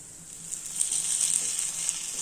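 Paniyaram, rice-batter dumplings of ration raw rice, fry in a covered pan with a steady high, hissing sizzle throughout, a few faint crackles popping near the surface.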